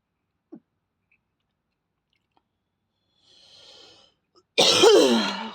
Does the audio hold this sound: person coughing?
yes